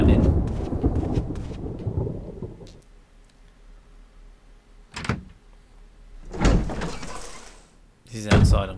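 Thunder from lightning rolls through an outdoor scene in the game Resident Evil HD Remaster, with a long loud rumble at first, then sharper cracks and bursts later, while someone talks over it.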